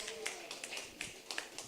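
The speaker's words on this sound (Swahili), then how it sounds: "Pigieni Yesu makofi" A church congregation at a street family lunch claps for Jesus, scattered handclaps landing in uneven bursts, fairly quiet and a little distant.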